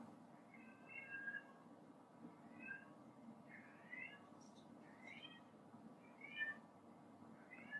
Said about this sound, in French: Vous entendez peut-être mon chat en fond.